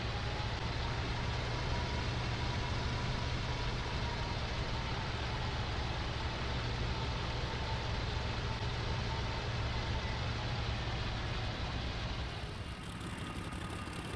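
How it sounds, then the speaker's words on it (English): A Messerschmitt Bf 109 E-7 engine running as the fighter taxis in a flight simulator: a steady, low, rumbling drone that holds evenly and then shifts and thins slightly near the end. "Now the engine is started, we regain control of the airplane."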